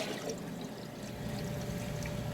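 A Speed Queen top-loading washing machine agitates a load of jeans in water, producing a continuous sloshing, churning wash of liquid noise at moderate volume with no distinct beats.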